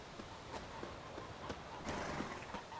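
Horse hooves clip-clopping in The Witcher 3: Wild Hunt, a steady run of soft, mid-distance hoofbeats over a busy game ambience.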